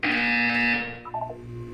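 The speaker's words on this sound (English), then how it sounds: "You will hear a buzzer. When you hear the buzzer," A loud, sustained electronic buzzer sounds in Portal 2, holding steady for most of a second before cutting off, followed by fainter, softer game tones in the background.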